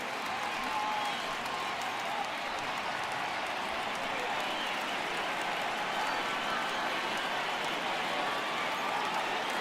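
A large stadium crowd of about 39,000 roars in the MLB The Show 18 baseball video game, Red Sox at Rangers, a dense, steady wash of cheering that holds level throughout.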